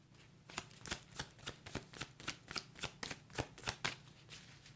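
Tarot cards are shuffled in a steady rhythm, about a dozen crisp riffles or slaps roughly every third of a second, close and fairly quiet with no talking.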